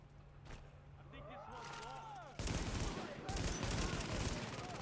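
An automated turret fires in the shooter The Division, opening with a single shot and then breaking into loud sustained automatic bursts, with whooshing effects and city ambience around it.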